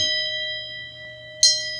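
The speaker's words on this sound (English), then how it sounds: "bell that you put on the door. and then it rings when somebody comes in" A small shop door bell, a $5 secondhand find, rings with a clear sustained metallic tone that hangs and slowly fades, then a brighter second strike near the end, heard close and alone.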